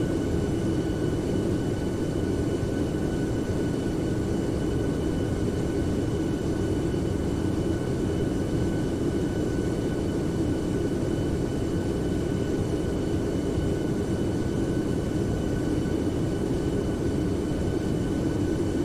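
A Boeing 757 in a flight simulator during a group flight from Honolulu to San Francisco, its engines droning as a steady, loud, even roar with faint high tonal whines, unchanging throughout.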